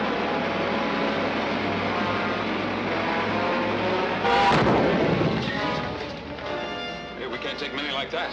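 A gun fires from a ship in a 1953 Commando Cody sci-fi serial, a loud booming blast that swells midway over a steady background drone and fades into rumbling.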